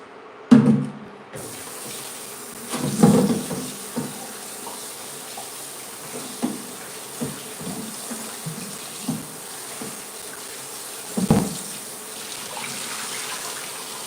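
Potatoes are washed under a running tap in a kitchen sink, with a steady rush of water, scattered knocks and thuds as they are handled, and a louder bump near the end.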